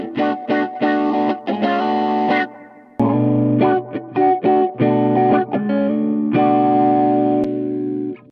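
Funky electric guitar runs through a PolyEffects Beebo multi-effects pedal, playing choppy, rhythmic chord stabs and short riffs with clipped gaps and a few longer ringing chords, loud and up close.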